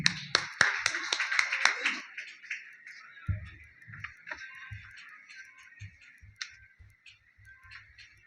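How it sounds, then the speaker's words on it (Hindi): A short burst of clapping from a small crowd, fading after a couple of seconds into scattered, sparse claps and light taps. "तालियों के साथ स्वागत"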